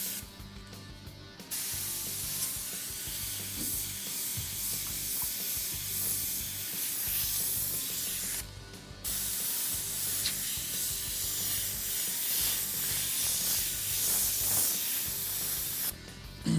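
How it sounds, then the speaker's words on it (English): Iwata HP-CS prototype airbrush spraying paint for a flame design on a car, a steady close hiss running almost continuously with brief pauses near the start, middle and end. "I want to take a second here and mention this airbrush that I'm using"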